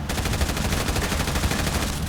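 Rapid, continuous automatic gunfire from a shooting video game, a dense unbroken burst of loud shots lasting the whole stretch with no talk.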